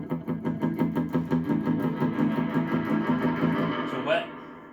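An electric guitar runs through a Summer Reverb pedal set wet, giving a steady run of repeated picked chords with a washy tail. The playing stops near the end and a short voice is heard briefly.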